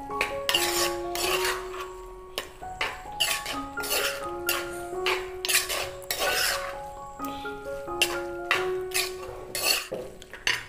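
Sautéed okra is stirred into an egg roast in a pan, with repeated scraping, clinking spatula strokes against the metal, rhythmic and close, with no talking.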